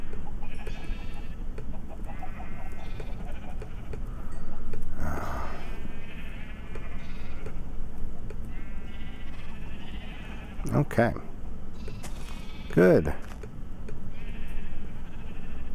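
Sheep bleat in the Minecraft video game, two short wavering bleats that stand out near the end over a steady background hum, with a person talking quietly in between.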